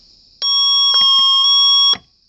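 An Elk-110 siren driver sounds its fire alarm mode at high volume: a loud, sustained electronic tone with sharp pulsed breaks, rising abruptly and then cutting off.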